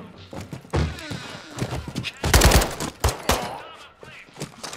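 Gunshots in the Call of Duty: Modern Warfare II campaign, a handful of sharp, loud bangs and thuds scattered irregularly across the moment, the heaviest burst in the middle, with quieter game sounds between.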